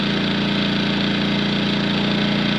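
Engel 2500 portable generator on eco throttle, its engine holding a steady, loud idle-speed hum with a regular low pulsing throb throughout, close by with no talk.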